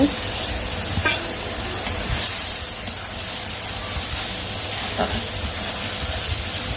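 Fried prawns sizzling as they go into a spice masala, a steady hissing frying noise with a few sharp pops and crackles, close and continuous.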